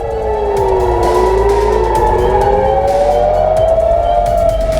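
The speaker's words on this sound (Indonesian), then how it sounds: "Sirine peringatan berbunyi di berbagai wilayah termasuk di kawasan pelabuhan utama di Haifa." Wailing warning sirens in Haifa, Israel, during an Iranian missile attack rise and fall continuously, loud and steady, with overlapping tones sweeping up and down over a low rumble.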